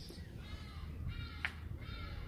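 Two hadeda ibises calling outdoors, loud harsh honking cries in repeated bursts with a sharp peak near the middle, over a steady low background rumble.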